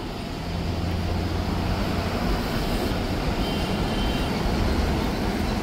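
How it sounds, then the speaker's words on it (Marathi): Heavy night traffic rolls through the Lonavala ghat, a dense, continuous low roar of engines and tyres that holds steady and loud the whole time. "लोणावळा घाटामध्ये फुल ट्रॅफिक झालेली आहे"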